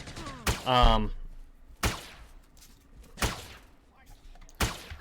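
Gunfire in the video game Entropia Universe, four sharp shots spaced more than a second apart, with a short electronic tone after the first.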